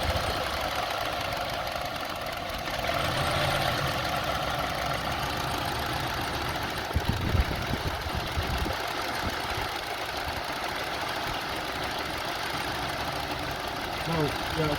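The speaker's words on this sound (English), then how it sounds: "Okay, now started, as you see, very bad idling." A Honda CR-V engine idles roughly with a dense, uneven rumble, heard up close and continuous, with occasional knocks and faint voices in the background.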